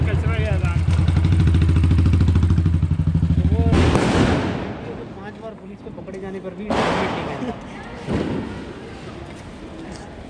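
Loud, sharp bursts of Diwali firecrackers crack out at intervals on a Mumbai street over a continuous droning engine hum, close by and harsh.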